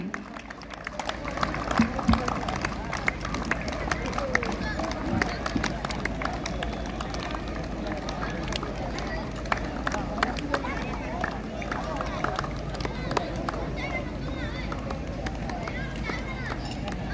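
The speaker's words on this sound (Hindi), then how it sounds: "आप सबसे आग्रह है तालियों की गड़गड़ाहट बनी रहे हमारे विजेता के लिए।" A crowd at the closing ceremony of a district-level football tournament keeps up steady, sustained clapping for the winners, with a busy murmur of voices mixed in.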